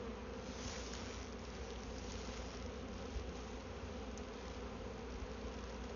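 A honeybee swarm being moved into a new hive produces a steady, dense buzzing drone that stays constant and fairly close for the whole stretch, with no voices.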